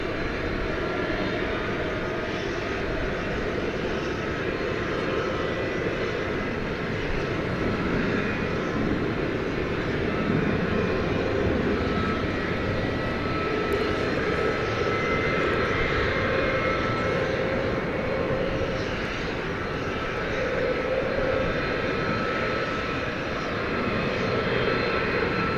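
A 24-year-old airliner built in 2000 rumbles at DFW Airport at night, giving off a steady, loud, broadband engine roar that holds constant the whole time, with no voices.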